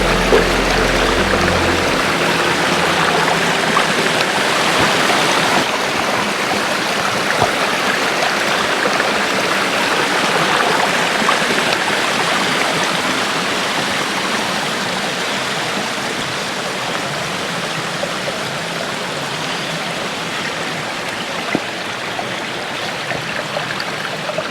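Gatherstone Beck in the Lake District runs low but steadily, a continuous close rushing and burbling of water over stones with no voices.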